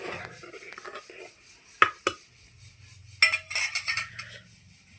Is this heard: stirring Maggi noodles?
yes